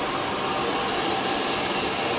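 A hair dryer blows hard and close during a brush blow-dry of hair, a continuous broadband rushing hiss that stays steady and loud throughout.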